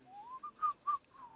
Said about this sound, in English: Now you are using 4 liters of oxygen just whistling instead of giving me.